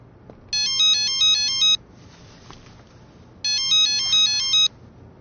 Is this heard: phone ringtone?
yes